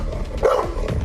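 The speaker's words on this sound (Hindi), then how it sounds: "Number 3 pitbull. इसकी आवाज आपकी धड़कनें तेज कर सकती है।" A pitbull lets out a single short, gruff bark over a steady background hum.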